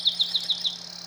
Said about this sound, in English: Chipping sparrow